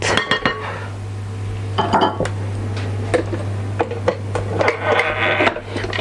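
Cake batter for a banana and white chocolate cake being beaten in a bowl, with a steady mechanical hum under irregular clinks and scraping taps against the bowl, close by and fairly loud, no talking.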